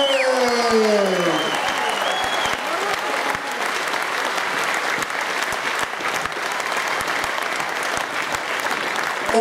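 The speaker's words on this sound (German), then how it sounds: "Und einen großen Applaus für einen tollen Fight für unseren Gast aus der Schweiz, Isariot Gashi." A boxing crowd applauds after a knockout, loud dense clapping that holds steady throughout, with an announcer's voice heard at the start.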